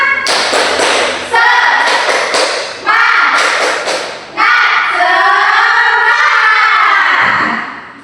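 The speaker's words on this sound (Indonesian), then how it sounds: "kita tepuk semangat terlebih dahulu ya" A class of Indonesian seventh-grade pupils performs the rhythmic 'tepuk semangat' clap chant, with sharp bursts of group clapping alternating with loud children's chanted voices, close and energetic.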